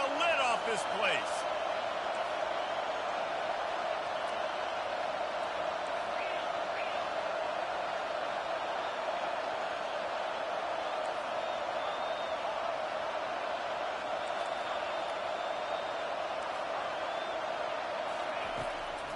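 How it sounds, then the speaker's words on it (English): A stadium crowd in an NCAA college football video game roars in a steady, dense wash of cheering throughout, with a play-by-play commentator talking over it. "this crowd is tearing the lid off this place"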